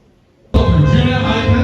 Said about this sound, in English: A round of applause for them once again.